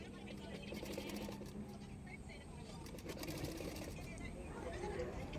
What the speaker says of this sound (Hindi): फिटिंग के लिए मैं सिलाई कर रही हूँ